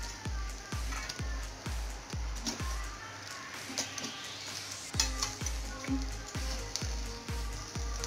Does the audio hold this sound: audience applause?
no